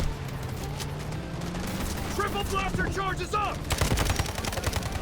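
Rapid automatic gunfire in the shooter Delta Force, fast repeated cracks building to a loud dense burst near the end, with a faint voice talking underneath.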